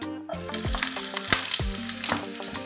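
Onion sautéing in hot oil for chow mein makes a bright, close sizzle, with periodic clanks and scrapes of stirring and no voices.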